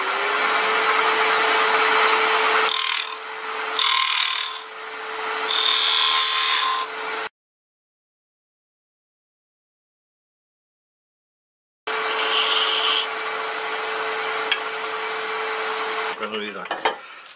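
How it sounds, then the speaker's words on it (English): A wood lathe spins a wooden flower blank while a bowl gouge cuts it, producing a loud steady hum with rough intermittent scraping bursts, broken by a long silent gap. "Looks like we can do some of this with the old bowl gouge."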